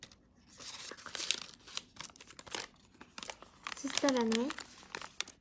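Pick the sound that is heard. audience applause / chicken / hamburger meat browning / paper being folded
paper being folded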